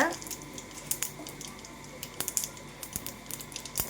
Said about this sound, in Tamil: எண்ணெய் காஞ்சிடுச்சு அம்மா கடுகு உளுத்தம்பருப்பு போடுறாங்க